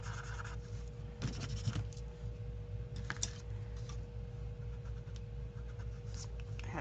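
Colored pencil blending chartreuse on paper, soft faint scratchy strokes in short repeated bursts over a low steady hum.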